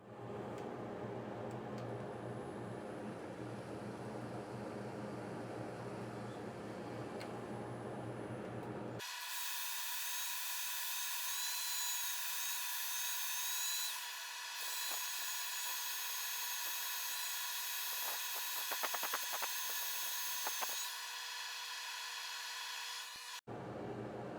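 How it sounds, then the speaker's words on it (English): Power sanding a turned black walnut bowl: a steady, loud high-pitched whir from the sander against the wood, which starts abruptly partway through after lower background hum and runs continuously until a sudden stop near the end. "I'm going to power sand it first"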